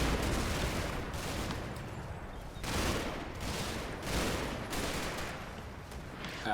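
Bren, Sten and Lee Enfield fire in a World War II hedgerow combat video game comes as repeated dense bursts. The gunfire crackles and rolls without pause under a steady background roar, with no voices.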